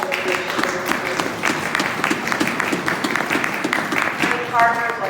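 A crowd applauds the mayor at a hotel groundbreaking ceremony, a steady wash of clapping that holds for several seconds with a few voices and cheers mixed in.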